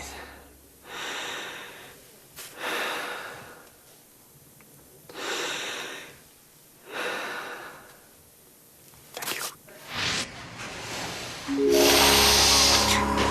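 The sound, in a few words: calming breathing exercise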